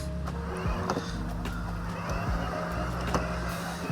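Hookii Neomow X wire-free robotic lawn mower driving across a lawn under manual remote control, a steady low motor hum with faint whirring, close and continuous, with occasional light clicks and outdoor background noise.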